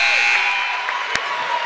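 A loud, sustained electronic buzzer sounds at the end of the half of a college men's basketball game between Georgia Southwestern and Auburn Montgomery, blaring steadily over arena crowd noise, with a sharp thump near the end.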